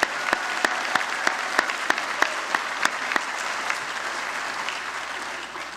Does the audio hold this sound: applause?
yes